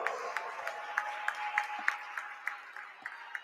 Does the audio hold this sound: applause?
yes